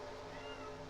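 A short, muffled meow from a cat shut outside a closed bedroom door sits low beneath steady racing game engine drone.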